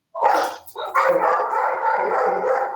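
A happy dog gives a loud, close bark followed by a long drawn-out whining howl.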